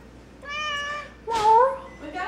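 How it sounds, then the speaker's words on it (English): A pet cat gives a drawn-out meow, then a louder, rising and falling meow, both close and clear in a quiet room, with a brief trailing call at the end. "Meow."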